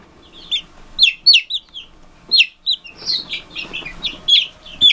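Young chicks from a home incubator peep in short, bright, rising chirps, several birds calling close by in quick irregular bursts over a quiet background.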